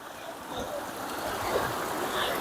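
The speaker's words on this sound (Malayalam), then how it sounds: "ഇവിടെ ഒരു വെള്ളച്ചാലുണ്ട്, നല്ല രീതിയിൽ സൗണ്ട്." A small mountain stream trickles along a trekking path on Chembra Peak in Wayanad, making a soft, continuous hiss and gurgle of flowing water at a modest distance.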